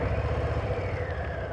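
A Harley-Davidson Low Rider ST motorcycle with stock exhaust runs close by in a steady low idle rumble, continuous and even throughout.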